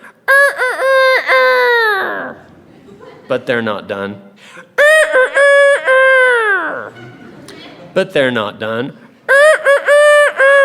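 A voice mimics a rooster crowing, several drawn-out crows in a row with brief spoken words between them.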